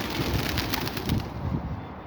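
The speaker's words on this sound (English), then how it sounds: "that was the birds confirming a coincidental suggestion" Outdoor birds, including a pigeon or dove cooing, call repeatedly against a loud, steady wash of broadband background noise, with no voices over them.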